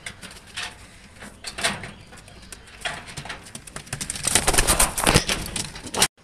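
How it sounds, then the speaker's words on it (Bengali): A female pigeon of a kamagar-type breed coos in a few soft, throaty bursts close by, with a louder run of cooing and rustling near the end and no talking. "এই যে ফিমেল কবুতরটি"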